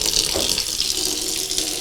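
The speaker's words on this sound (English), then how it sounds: "run hot water into it" Hot tap water runs into a measuring cup while making challah, a steady close hiss and splash with no voices.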